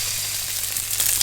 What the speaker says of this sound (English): Sizzling away, lovely.